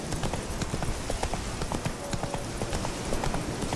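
Roach the horse trots in The Witcher 3, hooves clip-clopping in a steady, fairly quick rhythm, close and moderately loud over a soft ambient bed.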